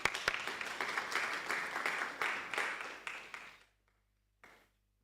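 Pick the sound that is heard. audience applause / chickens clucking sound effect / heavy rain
audience applause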